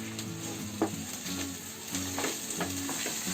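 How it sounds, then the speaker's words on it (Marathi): Spices frying in a pan for a village-style chickpea curry, stirred with a spoon: a steady hiss and sizzle with scraping strokes and light clinks against the pan. "हे जरा मसाले असे फिरवून घ्यायचे."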